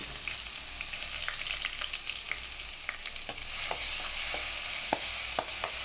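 Grated onion sautés in a pan for a paneer butter masala gravy, with a soft, even sizzle and intermittent light scraping and tapping as it is stirred, and no speech.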